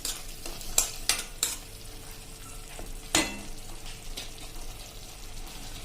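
A spoon stirs a bottle gourd and vegetable pasta mixture in a pan, giving a few sharp scrapes and clinks over a soft, quiet sizzle.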